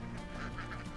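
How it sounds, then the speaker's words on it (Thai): A flock of ducks quacking on rural land, a steady, close chorus of overlapping calls that fills the whole second with no pauses. "อันนี้เป็นเสียงเป็ดนะฮะ"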